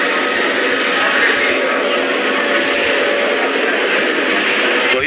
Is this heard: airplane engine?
yes